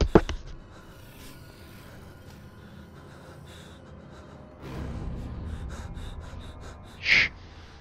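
Heavy, ragged breathing from a player in the Dreadhall VR horror game, quiet and close at first, with a louder stretch of breath near the end and a sharp gasp just before the clip ends.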